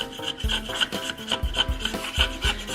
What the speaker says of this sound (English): I'm gonna start scraping away